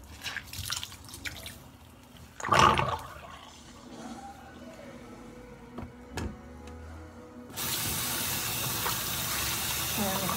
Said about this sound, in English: Now I'm gonna empty the soapy water and just rinse it off.